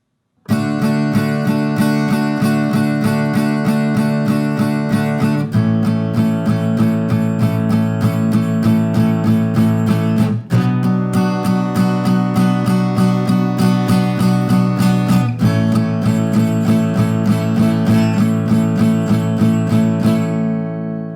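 Strummed guitar chords move through the repeating progression of a song, each chord ringing for several seconds before the next, loud and close, no talking.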